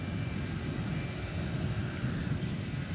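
Fixed-wing airplane passing at DFW Airport, a steady broadband engine roar with wind buffeting on the microphone, continuous and fairly loud throughout.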